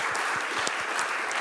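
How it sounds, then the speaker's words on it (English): Audience applause for a panel at a biodiversity research conference: a dense, even wash of many hands clapping, steady and moderately loud throughout, with a few heavier claps thumping through and no speech over it. "warm applause for the panel"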